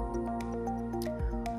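A glass dish is rinsed with purified water in a pharmacy lab, giving soft drips and small squishy splashes over a steady tonal hum.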